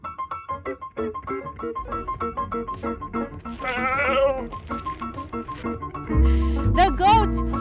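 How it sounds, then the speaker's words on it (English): A goat bleats repeatedly in short wavering cries amid lively background music, with louder, drawn-out bleats near the end. "The goat, the famous goat is back."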